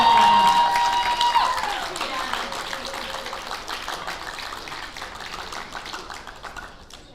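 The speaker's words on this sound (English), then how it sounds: "Let's give a really big round of applause for Mrs." Audience applause at a high school awards assembly, a broad burst of clapping that is loudest at the start and then slowly thins and fades.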